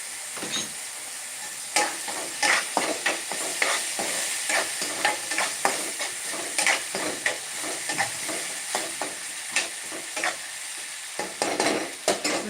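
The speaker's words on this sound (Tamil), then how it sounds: "வதங்கட்டும் நம்ம அதுக்குள்ள ஜூஸ் போட்டுடலாம்" Food sautés in a pan in a home kitchen, with a constant close sizzle broken by repeated scraping stirs throughout and no one speaking.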